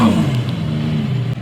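Infiniti G35 engine revving hard near the start, then holding a steady, loud, low drone for the rest of the short stretch with no talk.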